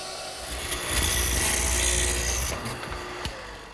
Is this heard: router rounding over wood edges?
yes